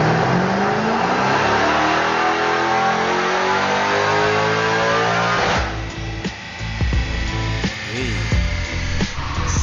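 A Hellcat-swapped Nissan 350Z roars on a dyno during its final pull, a loud, steadily rising engine scream that climbs in pitch before the throttle snaps shut into a rough, popping idle with crackles.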